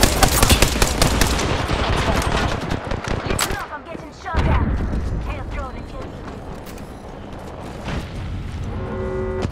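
Rapid automatic gunfire in an Apex Legends Arenas match, dense bursts of shots up close with sharp cracks and mechanical clatter, easing into scattered shots and reload sounds.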